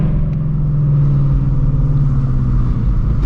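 A Shelby GT350 race engine underway on a drive, a loud, steady low rumble with a droning tone held at even speed from inside the car.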